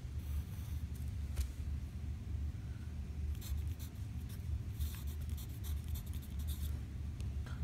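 A pen writes axis labels on a geometry graph, with soft scratching strokes in short bursts over a steady low background hum, close and without talking.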